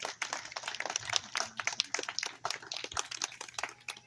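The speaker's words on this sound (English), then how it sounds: "let's give them a round of applause" Audience at a bird show at African Lion Safari applauds two macaws after their performance. The clapping is faint and fairly distant, forming a dense patter of many hands that keeps going throughout.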